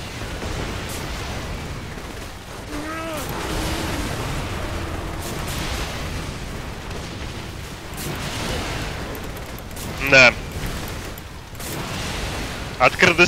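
Game combat in Saints Row: The Third with rumbling explosions and bursts of gunfire rolling on steadily, players talking over the noise, and a few sharp, loud hits near the end.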